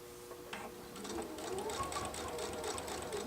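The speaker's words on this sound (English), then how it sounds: "this foot makes it a dream to do top stitching on thicker fabric" A PFAFF sewing machine with a top stitch foot runs steadily while top stitching thick fabric, a fast mechanical whirring hum that starts up and continues at close range with no talk.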